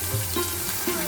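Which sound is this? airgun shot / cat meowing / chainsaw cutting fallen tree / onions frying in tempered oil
onions frying in tempered oil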